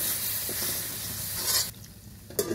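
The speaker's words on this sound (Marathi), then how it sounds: "गॅस मंद आचेवर करून सगळे परतून घ्यावे व वाफवून घ्यावे" Gram flour zunka mixture being stirred on a tawa over low heat, a steady close scraping and soft sizzle that drops away briefly near the end before resuming.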